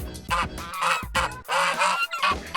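Geese honk loudly in several harsh bursts, close by, with short pauses between the calls.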